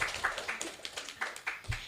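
A school audience at a Scout event claps in a rhythmic pattern, with a series of sharp group claps spaced roughly a quarter second apart, near and moderately loud.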